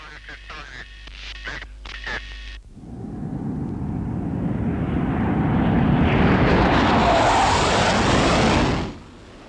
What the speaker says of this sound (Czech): První roj letounů MiG-21 se zařazuje do okruhu.